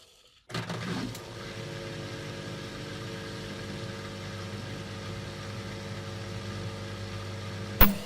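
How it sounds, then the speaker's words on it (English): A Defy 371 washing machine under repair, its belt connected, starts with a sudden onset and settles into a steady motor and pump hum for several seconds, ending with a sharp click. "there the pump starts. Now the motor should have started."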